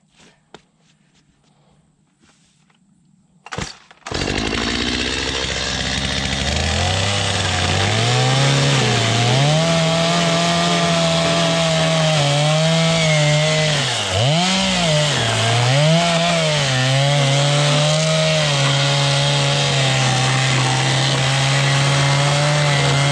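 Chainsaw cutting through a wooden board at a farm; the engine fires up with a sharp start, then a loud, sustained, close snarl rises and dips in pitch under load as it bites through the wood for nearly twenty seconds.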